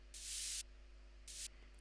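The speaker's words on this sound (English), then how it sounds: "We're gonna add another effect, which is this little white noise" Two bursts of bright white-noise sweep from an FL Studio moombahton production, a longer hiss followed by a shorter one, each cutting in and out abruptly over a low steady hum and otherwise quiet background.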